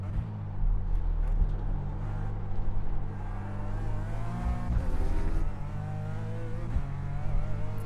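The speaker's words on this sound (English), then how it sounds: "I had no idea that LMP3 was coming through the field." An LMP3 prototype race car roars through the field in a racing video game, its engine drone loud and continuous with rising and falling revs as it passes close by, heard alone without talk.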